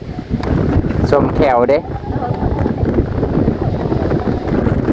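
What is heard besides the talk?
wind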